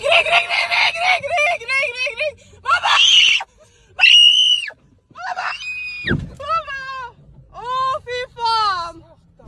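People inside a car scream as a truck slides toward them, a series of shrill, wavering screams and wails in bursts, loud and close, with no words spoken.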